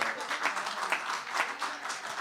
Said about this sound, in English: Let's give a huge round of applause again for Jive Hive Live